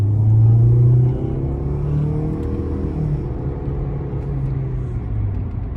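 A 2021 Toyota C-HR with a 2.0-liter naturally aspirated four-cylinder accelerates while merging into traffic, a close, steady engine drone with a rising note and road rumble, no talk.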